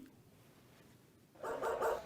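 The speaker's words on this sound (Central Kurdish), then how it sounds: "سەرۆکی ئەمریکا جۆ بایدن بەدەستی خۆی سەگەکانی و ئاژەڵە ماڵیەکان دەباتەوە بۆ کۆشکی سپی" Dogs belonging to President Joe Biden bark faintly, a brief cluster of yaps rising near the end after quiet.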